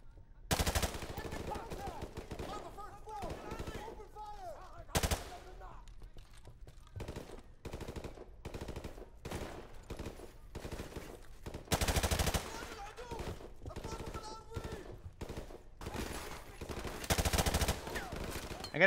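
Rapid bursts of automatic gunfire and single rifle shots from a remastered first-person shooter campaign, loud and repeated across the whole stretch, with short pauses between volleys and a few heavier blasts.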